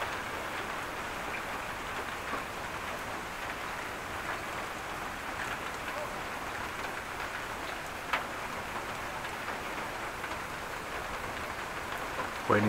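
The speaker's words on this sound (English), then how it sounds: "Not even raining that hard, but it's raining." Steady rain falls in Groningen during a May 2018 thunderstorm, making a continuous, moderate hiss that stays even throughout with no voices and only a faint tick or two near the end.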